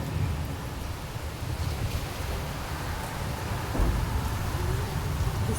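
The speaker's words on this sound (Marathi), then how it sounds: "असा पाऊस पडतोय ना बाहेर" Heavy rain pours steadily outdoors during a storm, a dense continuous wash of drops with low rumbling thunder rolling underneath, loudest briefly near the middle, with no voices.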